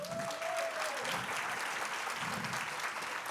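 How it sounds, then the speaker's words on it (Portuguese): Soft, steady applause from the audience at a panel discussion on aesthetic pressure, fairly distant and uniform, with a faint tone and murmur beneath. "Mais palmas para ela"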